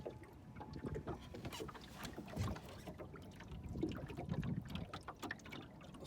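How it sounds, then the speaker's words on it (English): A Shellback dinghy sails along the Intracoastal Waterway, its hull making soft, uneven water lapping and sloshing close by, with faint creaks and gentle splashes throughout. "Sailing along."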